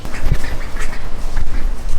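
Ducks eat worms from a cup, with close, repeated quacks and wet pecking and gobbling in a busy, continuous stream and no speech.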